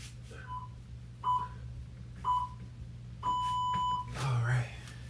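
Short electronic beeps sound at roughly one-second intervals, ending in a longer sustained tone, faint over a low background hum.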